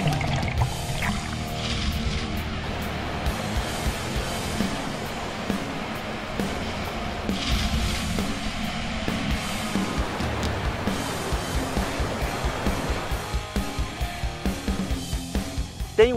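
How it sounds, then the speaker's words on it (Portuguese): Cachoeira do Galo, the largest waterfall in the Bananal community of Pacaraima, Roraima, gives a steady rushing roar of falling water, loud and continuous throughout. "E de todas as cachoeiras aqui da comunidade do Bananal, essa aqui é a maior"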